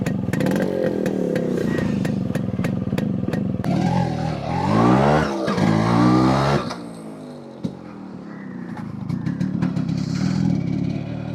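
A Yamaha RX135 two-stroke motorcycle runs close by, its engine revving up and down through rising and falling pitch sweeps, with a steady idle-like putter before and after and some background clatter.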